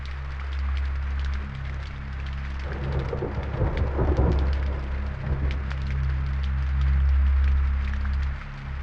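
Steady rain pours in a Tamil comedy film scene, a dense continuous hiss with low rumbling underneath, loud and unbroken throughout with brief swelling bursts in the middle.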